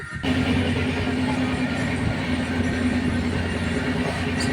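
A passenger train bound for Bardhaman rolls along the rails, heard from inside the carriage as a loud, steady rumble with a low hum and no pause.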